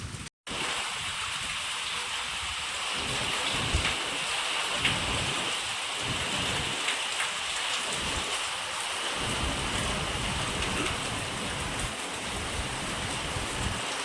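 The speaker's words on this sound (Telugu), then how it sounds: "చూడండి వర్షం ఎట్లా పడుతుందో" Steady rain pours down with gusting wind, a dense continuous hiss holding level for the whole stretch, with low rumbling swells underneath and no voices.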